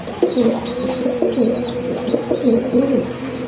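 Large pigeons in a loft coo in low, throaty repeated calls, close and clear, with several overlapping rolling coos and a thin high chirping repeated in the background.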